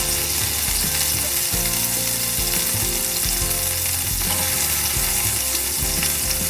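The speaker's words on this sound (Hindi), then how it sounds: "हम अपने चिकन को फ्राई करेंगे।" Chicken pieces fry over low flame in a pan, a loud, constant sizzle and crackle close up with low rumbling and clattering underneath that shifts as the pieces are set in place.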